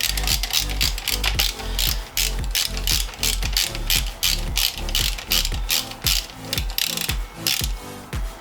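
Ratchet wrench tightening bolts on a road bike, with a quick steady train of close, loud metallic clicks repeating in short bursts throughout.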